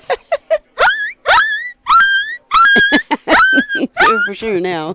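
A puppy gives a run of high yips and whiny, rising whimpers close by, in short repeated bursts, with a person's voice mixed in.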